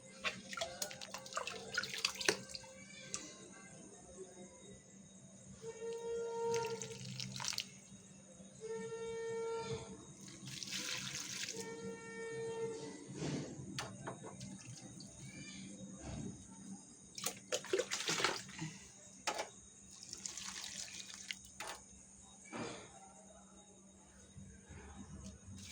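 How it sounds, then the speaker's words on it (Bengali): Garden plants watered in the evening, with water gushing and splashing in uneven bursts, stopping and restarting, while faint voices and background noise carry on underneath. "গাছগুলোতে একটু জল দিয়ে দিই।"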